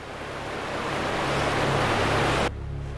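Waterfall in the video game Thief 2, a loud, steady broadband rush of falling water that cuts off abruptly to a quieter, muffled wash near the end.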